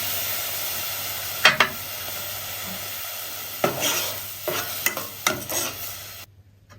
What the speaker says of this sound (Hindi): अब हम नेक्स्ट इसके अंदर दूध डाल देंगे। ये हम 1 गिलास जो है इसके अंदर दूध डाल देंगे।